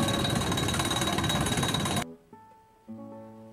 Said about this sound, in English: The posts are being pounded 3 feet into the ground